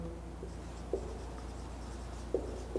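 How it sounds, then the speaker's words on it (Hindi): Chalk or marker writing on a classroom board during a physics lecture, soft scratchy strokes with a few sharper taps, faint and close in a quiet room. "तो देखिए अब हम वापस वही लिखेंगे"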